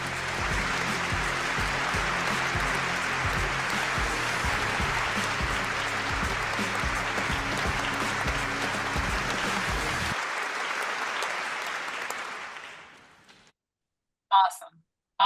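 An audience at a talk breaks into sustained applause for a keynote speaker. The clapping stays loud and full for about twelve seconds, then fades out, leaving a few brief voices at the end.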